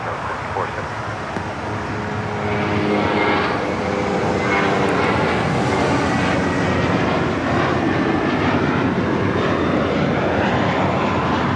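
A SkyWest plane takes off from runway 25 right at LAX, its engine roar building from a low rumble to a loud, sustained broadband drone with a rising whine, while a voice talks over it.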